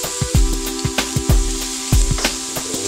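Hunan ribs sear on a Nutrigrill, giving a loud, close sizzle broken by a run of soft, rhythmic thumps and taps, with no one talking.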